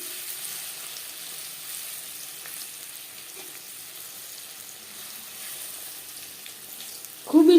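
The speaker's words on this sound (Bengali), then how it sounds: "একটা সাইড ভাজা হয়ে গেলে অপর সাইডটা উল্টে দেব।" Cauliflower pakoras fry in oil with a faint, steady sizzle that ends in a brief louder clatter.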